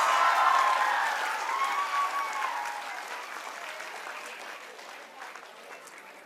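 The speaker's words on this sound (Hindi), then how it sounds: "तालियां बजती रहनी चाहिए" Audience applause fills a NEET result celebration hall, steady and dense at first, then slowly thinning and fading over several seconds, with faint voices and cheering mixed in.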